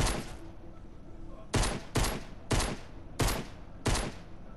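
Gunfire in Fortnite, five or six sharp, loud shots spaced roughly half a second to a second apart, each a sudden crack with a short decaying tail.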